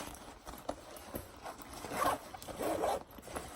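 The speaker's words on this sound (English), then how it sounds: "Then it has a third zipper here with another zipper inside." Zipper on a hydration backpack pocket pulled open in a few short rasping strokes, close and moderately loud, with quiet handling rustle between pulls.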